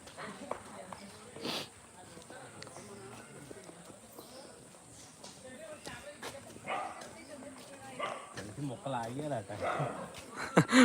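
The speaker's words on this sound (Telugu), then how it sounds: "చింటూకి కోతికి కుక్క ఫైట్ అవుతుంది" A dog barks in scattered bursts amid a busy outdoor scene, with people talking and commotion throughout.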